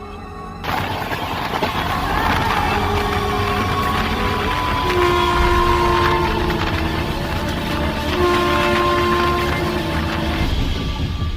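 A cartoon sound effect of a train standing at a station: a steady rumbling hum with tonal, horn-like whines running throughout, loud and continuous after an abrupt start.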